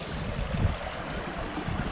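River water rushing over diabase rock at Conewago Falls, a steady broadband wash of flowing water heard close by with no talking.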